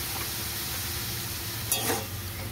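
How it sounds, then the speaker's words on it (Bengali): Cauliflower and beans sizzle softly in a pan after a splash of water, a steady low hiss with one brief scrape of stirring near the end. "এবার ভালো করে এটাকে মিশিয়ে কষিয়ে নেব"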